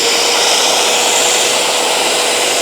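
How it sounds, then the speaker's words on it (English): A Bissell SpotClean ProHeat Pet portable carpet cleaner, model 2513W, running with a loud, steady, high-pitched motor and suction roar, close and constant without a break. "You're going to turn the machine on."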